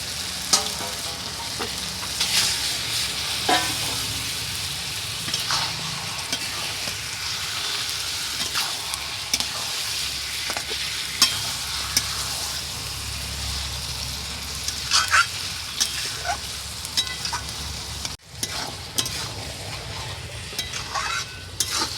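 Country chicken meat fries with spices in a pan, a loud continuous sizzle and crackle with frequent stirring scrapes throughout and no talking.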